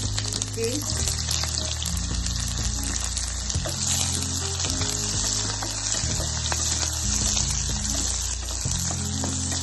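Onion with cinnamon, cardamom, cloves and star anise frying in ghee inside a pressure cooker, a steady close sizzle running continuously beneath background music.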